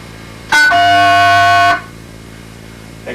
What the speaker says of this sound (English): A coin collect tone is composed of a 700 Hz and an 1100 Hz tone and sounds